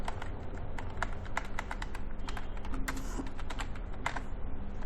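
Rapid keystrokes clatter on a computer keyboard while a comment is typed, a close, busy run of crisp clicks with no pauses.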